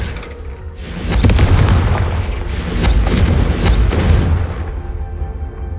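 Confringo blasting spell explosions in the video game Hogwarts Legacy: two loud, close, booming blasts in quick succession, each with a crackling roar that slowly fades away.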